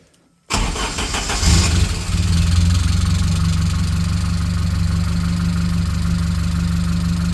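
A UAZ 452 van fitted with a Saab 2.3 turbo engine cranks and catches after a brief silence, then settles into a steady, even idle close by with no voices.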